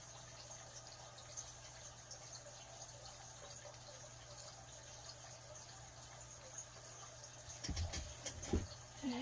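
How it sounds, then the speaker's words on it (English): Distilled water poured into a thick chalk-paste paint mix while making Christmas cards, heard near the end as a brief close splash and trickle after a long stretch of quiet room tone. "Add a little bit of water to it because it's sort of thick."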